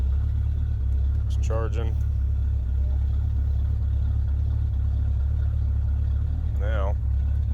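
A 1977 Chevrolet C20 truck engine idles with a steady, loud low rumble throughout, while a person speaks briefly over it twice.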